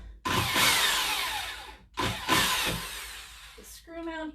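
A power drill drives a screw into a screw mount while a full mirror jewelry armoire is installed. It gives two long, loud whirring bursts close by, and a brief voice follows at the end.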